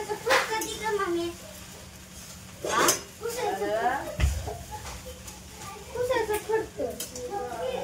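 A metal utensil scrapes and clanks against a large wok of sago in several bursts, with voices talking in between and a dull thud midway.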